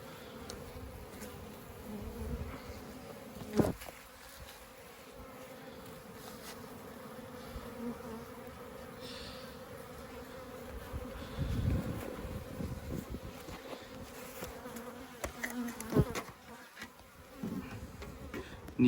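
A close, layered hum of many honeybees buzzing at a hive. The drone swells and fades as individual bees pass nearby, with occasional soft knocks.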